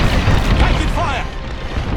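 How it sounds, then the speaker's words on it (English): A frigate explodes in the Star Wars Squadrons space-combat game, a loud, dense boom with rumbling debris that fills the whole two seconds while game voices talk over it. "Frigate destroyed."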